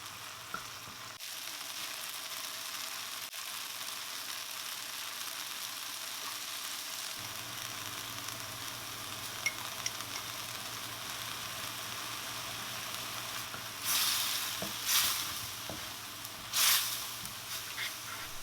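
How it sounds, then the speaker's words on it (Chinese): Tomatoes and ketchup being stir-fried in a wok give a soft, continuous sizzle with a couple of brief louder scraping stirs near the end; no talk. "继续煸炒"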